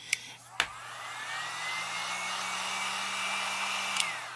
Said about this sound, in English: you can use a heat gun or a blow dryer, a hair blow dryer